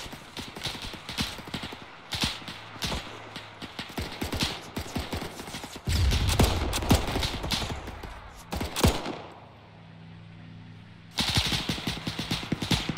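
Rapid bursts of machine gun fire in the Arma video game, a battle around a trench and half track, crackling in dense repeated volleys with brief pauses and a quieter lull before firing resumes.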